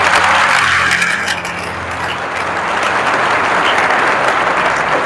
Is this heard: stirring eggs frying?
no